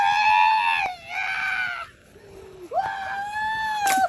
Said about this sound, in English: the way he screams on this swing